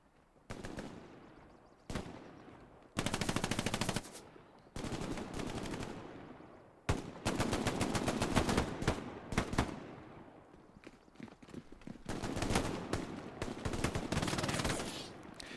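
Bursts of MG42 machine gun fire from Hell Let Loose, loud rapid volleys of several seconds each, separated by short pauses and single shots, with no voices.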